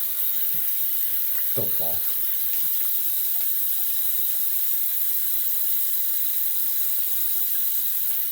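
Tap water runs steadily into a sink while someone rinses off after a straight-razor shave, a constant broadband hiss with a few splashes and a brief spoken word over it.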